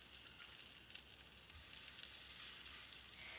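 Zucchini fritters sizzle in a frying pan, a steady, moderately loud crackling hiss that holds unbroken throughout, with a few faint pops and no talking.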